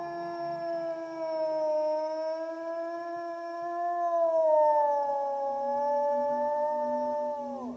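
Wolves howl in long, sustained, gliding tones, several voices layered together, rising and falling slowly, clear and fairly close against a quiet background.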